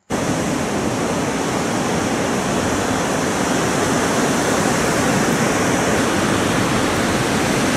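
Large ocean waves washing onto a black volcanic-sand city beach in Puerto de la Cruz, Tenerife, sheltered by a rock barrier, making a loud, steady broadband roar of surf that continues without a break, with no voices.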